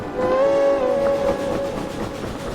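A train whistle in the VR video game Derail Valley sounds as one loud sustained steady tone lasting about a second and a half, followed by rumbling locomotive noise.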